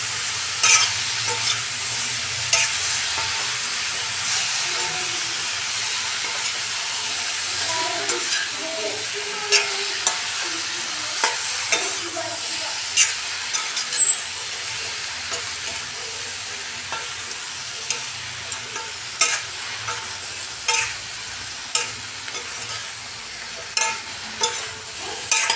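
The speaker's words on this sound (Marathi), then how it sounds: "लिंब टाकले आणि त्याला छान मिरचीसोबत आपल्याला मिक्स करायचे." Lemon pieces stirred with green chilies in a pan for a lemon pickle, a continuous low sizzle and hiss with frequent small scraping taps of the spoon.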